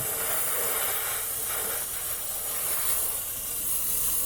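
An airbrush sprays paint onto the body of a 1965 Coronet car, giving a steady close hiss that holds without a break and swells and fades slightly as the spray moves.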